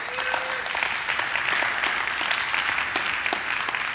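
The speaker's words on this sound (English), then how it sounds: "Does anyone want to clap over that one?" A church congregation applauds after a sermon point, giving steady, dense clapping from many hands that holds at an even level for several seconds, filling the room with no speech on top.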